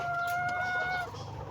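A chicken gives a brief, drawn-out vocal call close by, tonal and wavering, over a low background hum.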